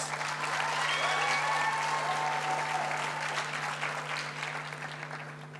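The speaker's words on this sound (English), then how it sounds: "Graduates, please give them a round of applause." Audience applause at a graduation ceremony in an auditorium, a broad sustained clatter of many hands that slowly fades toward the end, heard over a steady low background hum.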